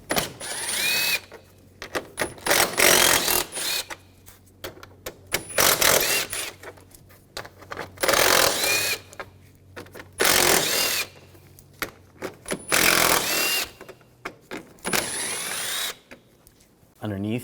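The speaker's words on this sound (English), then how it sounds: "We're going to remove these bolts." Bursts of a power tool or ratcheting socket driver removing 10mm radiator support bolts on a 2013-2019 Ford Escape 2.0L, repeated loud whirring runs separated by pauses, close by.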